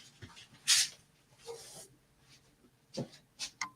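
A pet dog whimpers and snuffles in a room, giving a few short faint whines and breathy sounds at irregular intervals between quieter stretches, with no talk.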